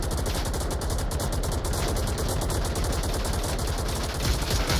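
Rapid gunfire in the VR shooter Onward during a competitive match, a dense run of close, regular shots that continues without pause.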